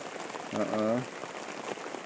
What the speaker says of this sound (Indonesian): Berteduh dulu sahabat, ini tuh hujan.